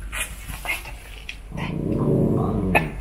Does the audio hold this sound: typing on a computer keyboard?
no